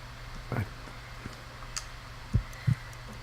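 Faint, low heartbeat thumps in the Sherlock Holmes Crimes & Punishments video game, a few soft irregular beats over a quiet steady hum.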